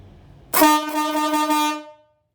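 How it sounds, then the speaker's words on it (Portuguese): A single loud, deep blast from a compressor-driven marine air horn fitted to a car, rich and steady, sounding for about a second and a half before fading out. "É uma buzina robusta, forte, grave, de longo alcance."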